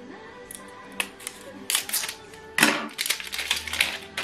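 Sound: HP OfficeJet Pro 8025 ink cartridge clicking into place

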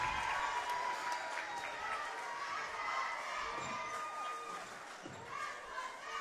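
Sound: crowd cheering for a basketball player's 1,000th point

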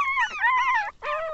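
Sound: pinscher puppy whimpering

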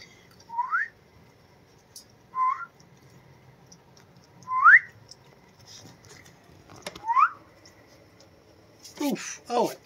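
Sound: baby raccoon vocalizing

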